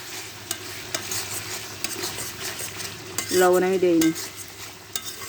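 Spices fry in a hot pan with dried chilli powder, turmeric and a pinch of sugar, giving a steady sizzling hiss with clicking stirs of a utensil; a voice speaks briefly midway.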